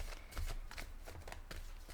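Tarot cards being shuffled by hand, a quick series of soft riffling flicks and taps, close but quiet, with no talking.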